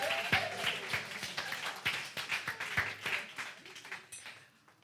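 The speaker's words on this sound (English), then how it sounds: "Please give Marcy Francis, Will, Kamara, and Janet a real round of applause." A congregation at a Sunday celebration service gives a round of applause, uneven claps from a moderately sized crowd under a sustained tone, tapering off and fading near the end.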